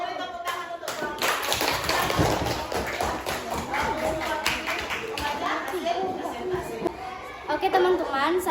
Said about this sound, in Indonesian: Kelompok satu, beri tepuk tangan untuk kelompok.